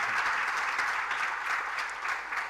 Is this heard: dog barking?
no